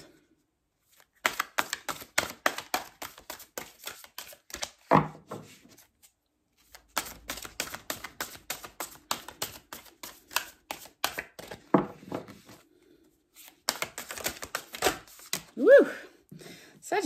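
Tarot cards riffled and shuffled in bursts of crisp rapid flutter, several shuffles separated by short pauses, close and moderately loud with soft handling noises between.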